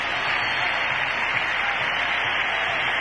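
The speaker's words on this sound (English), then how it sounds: "and listen to the crowd." A large football stadium crowd roars continuously after a touchdown, a dense, steady wall of cheering and clapping with no breaks and no clear voices on top.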